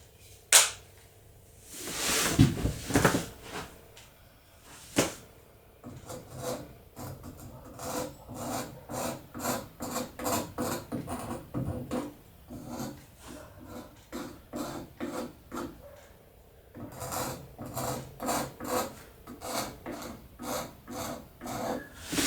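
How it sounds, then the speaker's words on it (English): Old finish being scraped off an antique wooden bed, a rhythmic series of short rasping strokes close up, with a few sharp knocks early on and a steady back-and-forth pattern throughout. "you want to scrape hard enough to get the finish off, but not hard enough that you're gouging the wood"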